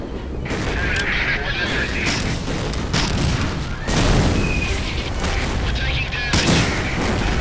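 Tank cannon fire in the WWII shooter Medal of Honor Allied Assault: repeated heavy booms mixed with gunfire crackle, loud and dense throughout, with a voice briefly shouting over the battle.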